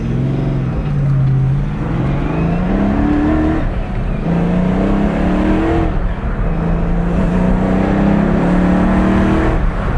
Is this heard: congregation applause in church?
no